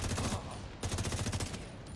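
Automatic gunfire from a firefight in the shooter game The Division 2, with rapid bursts of shots repeating densely throughout, loud and close, and a brief lull partway through.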